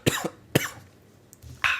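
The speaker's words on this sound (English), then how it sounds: "Nothing like coughing into the mic." Three sharp coughs directly into a close podcast microphone, two in quick succession and a third after a short pause, each loud and abrupt against a quiet room.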